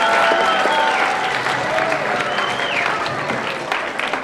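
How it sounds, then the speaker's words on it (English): An audience at a chemistry magic show applauds the presenters: steady, dense clapping from a crowd, loud and sustained throughout, with a few voices and whoops mixed into the ovation. "give a round of applause to all of our presenters"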